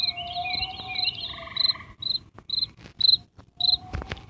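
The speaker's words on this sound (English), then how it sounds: "them crickets are right" Crickets chirp close and clear in repeated bright trills, first continuous and then in short evenly spaced bursts, with no talk.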